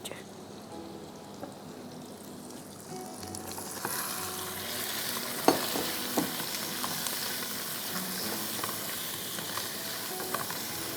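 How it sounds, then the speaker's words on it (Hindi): Half a kilo of julienned chicken sizzles and fries in a pan with a steady, hissing crackle that grows louder and fuller after the first few seconds. No one speaks, and the frying carries on without a break. "अच्छी तरह से इसको आप फ्राई कर लीजिए, एटलीस्ट फॉर 7 to 8 मिनट्स"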